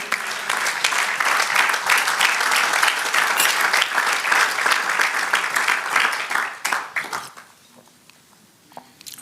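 A church congregation applauds during a sermon, dense sustained clapping from a large crowd that fades out toward the end.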